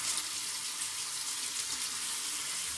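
Water runs steadily from a tap in a bathroom setting, a continuous hissing rush at an even level throughout, with no speech.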